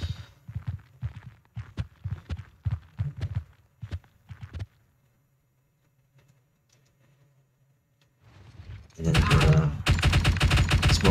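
Gunfire from the tactical video game Door Kickers 2 in a night mission: spaced single shots, a quiet stretch, then a loud sustained burst of rapid automatic fire at close range.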